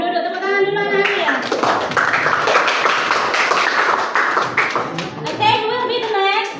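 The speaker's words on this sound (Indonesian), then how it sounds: "Tepuk tangan dulu anak-anak ya" Schoolchildren clap for a group of classmates in a classroom: a dense burst of applause lasting several seconds, with a teacher's voice just before and after.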